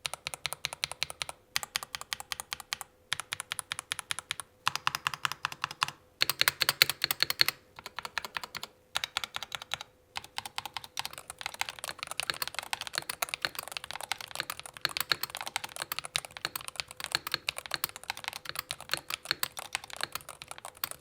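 Typing on a Corsair Hall-effect gaming keyboard: close, crisp keystrokes come in quick bursts separated by short pauses, then settle into a steady, continuous run of clicks.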